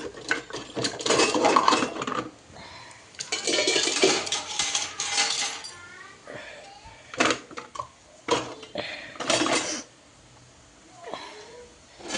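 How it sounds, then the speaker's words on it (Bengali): Metal spoons and a ladle clatter and clink as they are set down and put away in a home kitchen, several bursts of sharp jangling separated by short pauses, close and fairly loud. "এই যে হাতা আছে, চামচগুলোকে জায়গায় রাখি"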